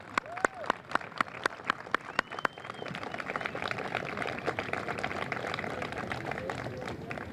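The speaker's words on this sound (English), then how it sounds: "Please give the gardeners a round of applause" At a mayor's garden contest ceremony, a few sharp isolated claps start off, then the audience joins in a sustained round of moderate applause, heard at some distance.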